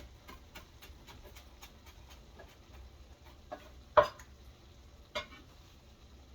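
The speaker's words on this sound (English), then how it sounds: "And then we're just gonna mix that with a fork." A fork stirs taco filling seasoned with salt, chipotle chili powder and cilantro, giving soft scraping strokes and a few sharper clinks against the bowl in a quiet kitchen.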